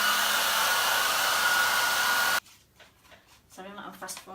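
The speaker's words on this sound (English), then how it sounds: "now I'm going to have to just hairdryer this off." A hair dryer blowing on wet paint runs loud and steady at close range for a little over two seconds, then switches off abruptly, leaving quiet room noise and a voice starting to speak.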